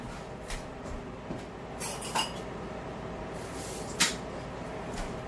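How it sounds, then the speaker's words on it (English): A fork clinks against a bowl while mixing garlic powder, a few light metallic taps and scrapes spread unevenly over a faint background hum. "And we're going to mix it. Let me grab a fork."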